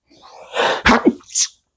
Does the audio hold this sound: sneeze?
yes